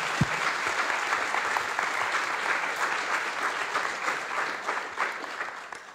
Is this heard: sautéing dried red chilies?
no